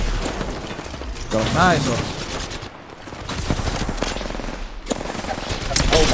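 Apex Legends gunfire, including a shotgun, rattles as rapid, dense bursts under excited voices, with short loud shots and mechanical clatter throughout.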